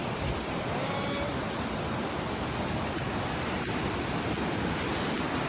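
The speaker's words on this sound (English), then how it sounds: "Kanidaru waterfall." Kanidaru waterfall in a Japanese forest pours as a constant, dense rushing roar, steady and broadband with no pauses, heard up close without talk.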